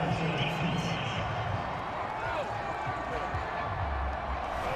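An NFL playoff stadium crowd, Bengals against Ravens, reacts to a penalty flag with a steady, dense roar of boos and murmurs, broad and sustained the whole time, while a commentator talks over it.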